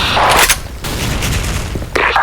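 Explosive blasts and gunfire from the online shooter Special Force, a dense burst of booms and bangs at the start, a steadier rumble through the middle and another sharp blast near the end, loud and close with no talk.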